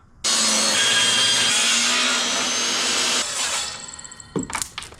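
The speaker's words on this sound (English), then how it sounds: "So I will cut it with a table saw." A table saw whines steadily through a wood panel for about three seconds, loud and close, then spins down with a few clatters and knocks as the cut finishes.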